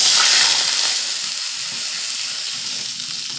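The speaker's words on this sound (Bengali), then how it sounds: "এই ঘির মধ্যে আমি দিয়ে দিচ্ছি 1 বাটি জল" Water poured into hot ghee in a pan gives a loud, steady sizzle that starts strong and settles into a continuous frying hiss, with no voices.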